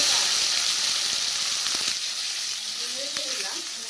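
Whole cumin seeds and a dried red chili hit hot oil for tempering, giving a loud, close, continuous hissing sizzle that fades slightly over a few seconds, with faint crackles and a brief voice near the end.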